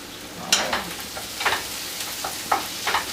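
Peppers fry in a pan, a constant close sizzle broken by several scraping stirs and crackling bursts.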